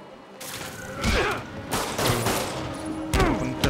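Gunfire in the video game Marvel's Spider-Man comes as several loud, close bursts of shots with thuds and whooshing movement between them, forming an irregular fusillade over a few seconds.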